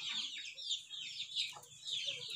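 Chickens (chooks) cluck continuously at close range while being fed corn on a home farm, a busy overlapping chorus of short calls with no talking.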